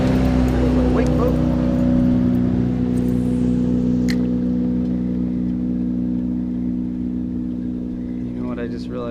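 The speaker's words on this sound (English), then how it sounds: "Wake boat." Wake boat engine droning steadily close by while a kayak sits on a marina lake, a loud continuous low hum that fades slightly, with water lapping and some wind over it.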